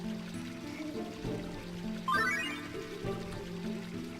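Flowing spring water in Final Fantasy IX's Evil Forest gives a continuous trickling, bubbling wash, with a rising chime-like game effect in the middle and layered background music throughout.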